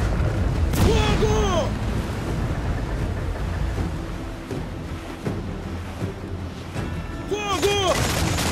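Naval cannon fire from sailing warships in Assassin's Creed IV Black Flag, loud booming shots and blasts with rumbling battle noise throughout, with a cluster of bursts near the start and another near the end, under occasional shouting.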